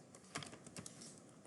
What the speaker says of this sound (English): In here, I'll type download